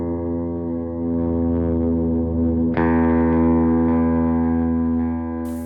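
A Harley Benton TE-20HH electric guitar plays clean tones, with sustained chords and notes ringing out steadily, one fresh strum landing mid-phrase, played alone and close with no talking.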